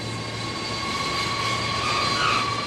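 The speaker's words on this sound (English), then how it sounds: "a unique flypast of 5 different aircraft from the base. One of which is the C-17 Globemaster, the RAF's biggest and fastest long-range cargo aircraft" RAF C-17 Globemaster long-range cargo aircraft on a flypast at RAF Brize Norton, a steady broadband jet engine roar with faint tonal whine, sustained and fairly loud throughout, no voices.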